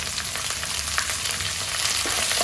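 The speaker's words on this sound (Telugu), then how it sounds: "మంచిగా వేయించుకోవాలి ఆనియన్స్ ట్రాన్స్పరెంట్ అవ్వాలి" Onions, green chillies and curry leaves fry in a hot pan for atukula pulihora, making a loud, close, continuous sizzle and crackle with no one talking.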